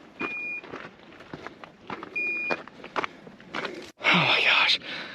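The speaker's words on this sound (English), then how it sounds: "So the beeping noise was my drone controller." A drone controller left switched on emits short, high, steady beeps, two spaced tones a couple of seconds apart, heard under close whispered talk and handling noise outdoors.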